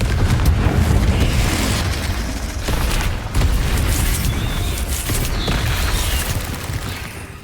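Explosive spells cast in a Harry Potter video game, a dense run of loud booming blasts and crackling bursts that overlap continuously, close and heavy.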